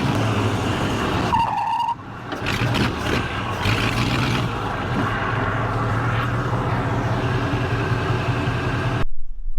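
A race car loops around a track, its engine droning steadily and loudly throughout, with a brief dip and some tire noise early on, then cutting out abruptly at the end.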